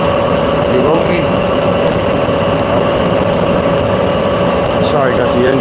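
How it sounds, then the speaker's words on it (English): A nearby engine runs steadily as a constant droning hum that fills the whole stretch without pause. "Sorry, I got the engine sound right here."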